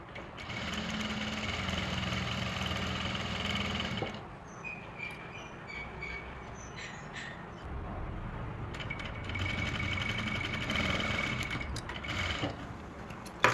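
Sewing machine stitching along the edge of a salwar cuff, a steady fast motor whir running for several seconds, pausing briefly, then resuming continuously.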